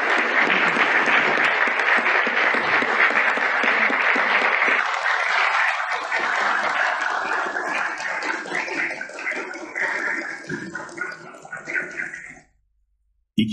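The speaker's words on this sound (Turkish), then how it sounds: "alkışlar arasında kürsüye çıkıyor" Sustained, dense applause fills a parliamentary assembly hall as the eldest member rises to the rostrum; loud clapping runs steadily, thins toward the end, then stops abruptly.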